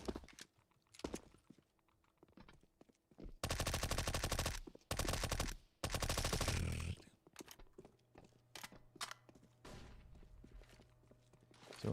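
An MP5 submachine gun in CS:GO fires in several sustained automatic bursts, each roughly a second long and loud, between quieter stretches of in-game footsteps and clicks, with a little muffled voice in the background.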